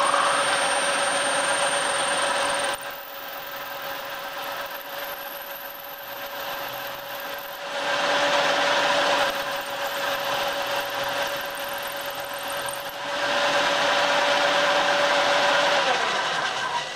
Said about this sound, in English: we'll drill the hole in this top plate.